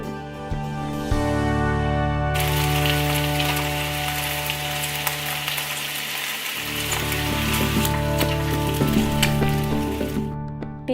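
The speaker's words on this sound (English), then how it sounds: "Your sauces are ready when you hear a pretty loud sizzling in the pan." Loud, steady sizzling and crackling of sauce and garlic frying in a hot pan, continuous throughout with a faint electrical hum underneath.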